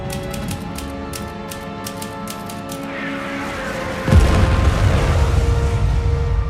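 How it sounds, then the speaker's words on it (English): A deep, heavy explosion boom from a meteor impact bursts in suddenly after a stretch of steady ticking and tones, then a loud rumbling roar carries on to the end. "If we're not, then kaboom."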